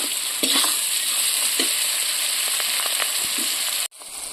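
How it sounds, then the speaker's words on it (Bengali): Prawns frying in a hot pan, a constant hissing sizzle with scattered scrapes and clinks of a stirring utensil, close and fairly loud, ending in an abrupt cut. "চিংড়িটা ভালো করে কষিয়ে নিচ্ছি।"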